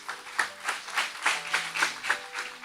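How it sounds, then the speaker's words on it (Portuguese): A small church congregation claps during a Friday healing and deliverance service, a steady rhythmic patter of hands at moderate distance with no talk over it. "Então vamos aplaudir a Jesus."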